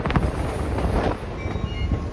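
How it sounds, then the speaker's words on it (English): NKP 358 steam locomotive pulling The Autumn Limited slows along the rails, a close rumble of wheels with rhythmic clacking thumps and faint squealing tones above. "I just now see the train was slowing down"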